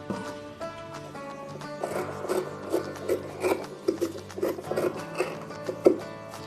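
Scissors cut through blouse fabric close up, giving a series of about ten short, quiet snipping crunches in an irregular rhythm over a faint background hum.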